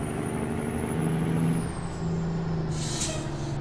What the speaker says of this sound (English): Listen to those brake sounds, these air brakes.